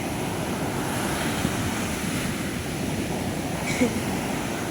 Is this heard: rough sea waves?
yes